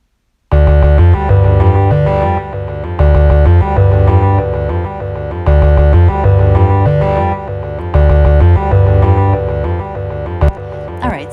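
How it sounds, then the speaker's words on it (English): A heavily distorted electric guitar plays four repeated chord phrases with reverb, loud and thick, ending in a brief scrape. "that definitely has reverb added, and that's more like a kind of grinding, heavy metal kind of sound"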